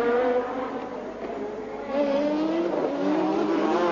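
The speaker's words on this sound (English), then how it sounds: "Warwick being caught to be lapped again by Ayrton Senna" Formula One race cars at the 1986 Detroit Grand Prix street race, including a low-line Brabham, with engines droning and whining steadily at high revs as cars pass at mid distance, pitch shifting as they go by.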